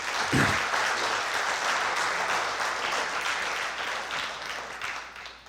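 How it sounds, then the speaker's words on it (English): Sustained applause from a seated crowd at a Hall of Fame induction ceremony, a dense steady wash of many hands that holds at a moderate level and fades slightly toward the end, with no speech. "if you could give him a round of applause, I would appreciate that"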